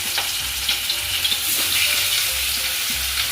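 The rest of the katla fish pieces sputter in hot soybean oil, a constant close sizzle with small pops and bursts of spitting.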